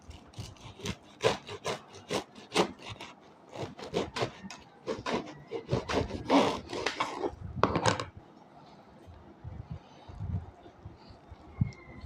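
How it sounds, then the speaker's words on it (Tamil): A serrated bread knife saws through a toasted chicken club sandwich in quick, crisp, scratchy strokes that come in bursts, then give way to a few soft, scattered knocks and rustles. "இந்த கிளப் சாண்ட்விச்சை கட் பண்ண போகிறேன்."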